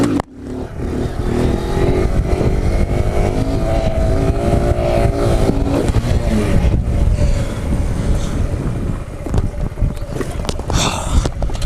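Motorcycle ridden through town, its engine loud and close as it accelerates and revs, a steady roar with shifting pitch that holds for most of the stretch before easing off into rougher, uneven engine noise near the end.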